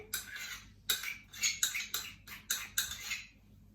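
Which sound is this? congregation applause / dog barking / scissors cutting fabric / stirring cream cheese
stirring cream cheese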